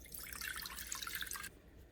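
A short stream of water, about a cup, pours and splashes into a cooking pan for about a second and a half, then it stops, close and quiet.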